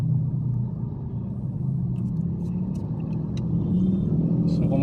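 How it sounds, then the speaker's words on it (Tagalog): Bumper-to-bumper Manila traffic at the Araneta Avenue underpass makes a steady, low engine rumble from inside a car, with faint clicks and a few distant vehicle sounds on top. "Bumper to bumper na ang traffic mga kaibigan"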